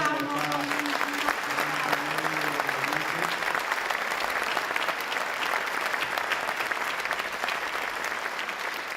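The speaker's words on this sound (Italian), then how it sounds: "E facciamo un applauso." Sustained audience applause at the Leoni del Veneto 2015 ceremony, a thick, even wash of clapping from a large crowd; a voice is heard briefly at the start.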